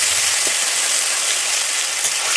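A paste of ground poppy seeds, ginger and green chilies frying in oil for a Bengali potol posto, a loud close sizzle with a constant dense hiss and no pauses.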